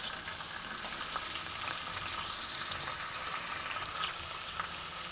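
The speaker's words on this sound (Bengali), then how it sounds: "তো ফার্স্ট আমি দেখো ফুলকপিটা ভেজে নিচ্ছি" Cauliflower and pointed gourd fry in a pan, giving a steady, dense sizzle with faint crackles throughout, close and continuous with no talk.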